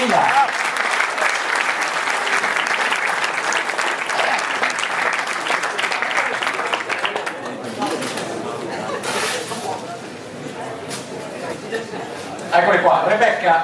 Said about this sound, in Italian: Per loro la foto di rito e l'applauso del pubblico di Longarone Fiere.